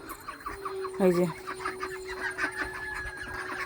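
Chickens cluck nearby in a short burst, with a brief spoken voice and a steady background hum.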